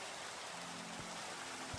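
Steady nighttime rain in Minecraft's ATM9 Sky modpack, a dense, even hiss of falling rain with no gaps, moderately quiet, with a low faint hum underneath and no voices.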